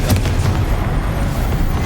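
A Confringo fire-blast spell explodes in the video game Hogwarts Legacy, a loud, sustained booming roar with heavy low rumble that fills the whole moment without pause.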